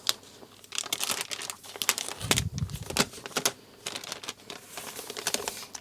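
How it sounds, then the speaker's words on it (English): Printed vellum sheet peeled off its backing paper, rapid crackling and crinkling with small tearing snaps, close and fairly quiet, continuing in uneven bursts with no talk. "we can actually detach the vellum from the backing paper"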